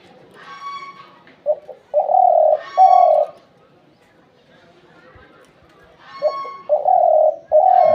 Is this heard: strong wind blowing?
no